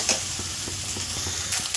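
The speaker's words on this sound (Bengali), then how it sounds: "ডিমটা আমার ভাজা হয়ে গেছে" An egg seasoned with salt and a little ground pepper fries in a pan, giving a steady close sizzle broken by a few soft scraping or stirring taps, with no talking.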